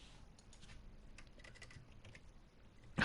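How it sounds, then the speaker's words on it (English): Soft, quick keystrokes tap on a computer keyboard, faint and close, ending with a louder sudden noise. "I keep hitting the wrong button on my keyboard."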